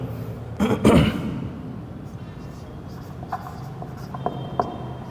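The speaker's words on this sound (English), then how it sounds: "first I'll write the definition." A teacher writes out a definition on a board, producing a few scratchy strokes early on and lighter taps and scrapes after, against a quiet room.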